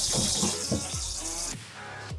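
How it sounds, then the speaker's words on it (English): Water running from a camper sink faucet with the water pump on, a steady hiss of flow under a few short voiced sounds and knocks, close, with a sharp change near the end. "Water pump on. Sink is running."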